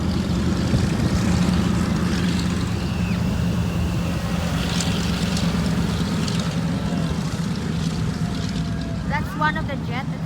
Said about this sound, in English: That's one of the jets that's gonna fly.